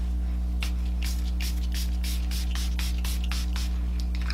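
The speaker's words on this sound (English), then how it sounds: "spray my face with the Milani Make It Last setting spray." Quick pumps of Milani Make It Last setting spray misted onto a face, about ten short hissing spritzes in a steady rhythm over a constant electrical hum.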